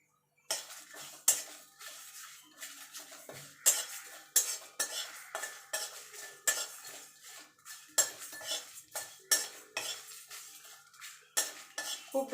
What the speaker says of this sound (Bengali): মশলাটা ভাজার জন্য আমি গ্যাস ধরিয়ে কড়াই বসিয়ে দিয়েছি